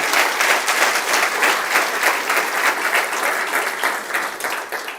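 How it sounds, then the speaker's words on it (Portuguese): Church congregation applauding during a sermon, a steady, dense wave of clapping from a large crowd that fills the whole moment without pause or talk. "dê um aplauso forte para o Senhor Jesus"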